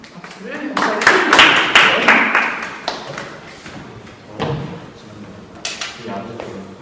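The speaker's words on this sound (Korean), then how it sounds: "박수를" Applause from an audience closing the second session of a Korean student debate, a burst of dense clapping that swells loud through the first three seconds and then thins into scattered claps with a voice speaking in between.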